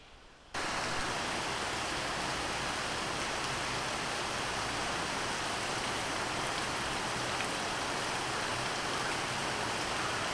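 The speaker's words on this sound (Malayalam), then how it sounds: "നല്ല മഴ കേട്ടോ. രാവിലെ തൊട്ട് തുടങ്ങിയ മഴയാണ്." Heavy rain pours steadily after a brief quiet opening, a dense continuous hiss that stays loud and even throughout with no voices.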